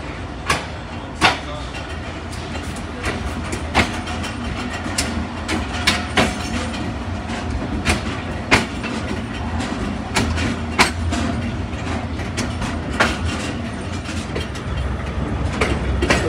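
Malkwal Express train with GMC 15.01 locomotive rolling along rails out of Mandi Bahauddin station in early morning: steady interior rumble with regular clickety-clack wheel beats over rail joints, continuous and close throughout.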